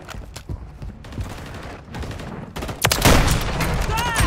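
Gunfire in Call of Duty, a dense burst of rapid shots that builds from scattered pops to a loud, sustained fusillade near the end, with no talking.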